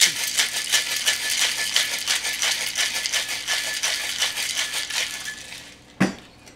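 Cocktail shaker rattles hard as a ginger beer cocktail with ice is shaken, a fast steady rhythm of clattering for about six seconds, loud and close, ending in one last knock.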